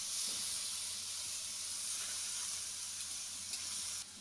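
Potatoes and a splash of water hiss and sizzle steadily in a pan while pumpkin leaves cook, a dense, close, continuous frying hiss that holds level throughout and drops slightly at the very end.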